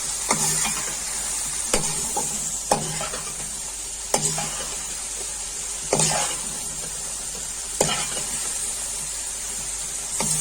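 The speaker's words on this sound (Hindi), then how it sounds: "चने डाल दिया मैंने, 2 मिनट फ्राई कर लूंगी।" Chickpeas frying in spices in a pot for Degi chana pulao, a continuous soft sizzle broken by a handful of sharp spoon knocks against the pot roughly every second or two, near and clear with no voices.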